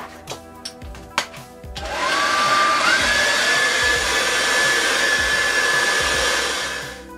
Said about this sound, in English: Now going in with my hairdryer.